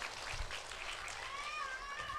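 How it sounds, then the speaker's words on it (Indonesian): A crowd at a live outdoor show in Jatipuro, Karangjati, Ngawi applauds briefly, a soft spread of scattered clapping heard from some distance amid faint background chatter. "Tepuk tangan."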